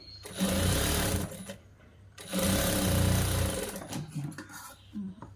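A sewing machine stitches a boys' school uniform shirt in two loud, steady bursts of whirring, each lasting about a second and a half, followed by softer handling noises and short stops.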